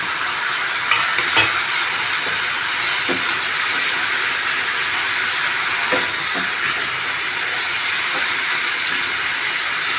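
Steady loud sizzling and hissing of salted chicken sautéing in a pan, with occasional soft stirring scrapes, no voices.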